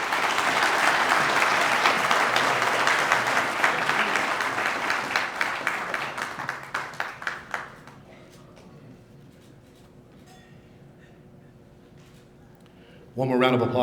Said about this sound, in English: One more round of applause for Mr. John Rosales